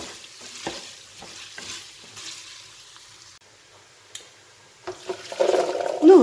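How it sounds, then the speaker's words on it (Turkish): Homemade tomato paste frying and being stirred in a pot for a chickpea and meat stew, with soft scraping stirs and a low sizzle that swells louder toward the end. "Yine salçanın kokusu gelene kadar kavurma işlemine devam ediyorum."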